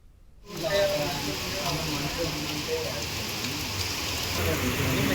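Heavy rain pours down in Hyderabad, a dense, steady hiss that cuts in abruptly after a brief silence and holds without letup.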